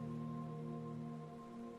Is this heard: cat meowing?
no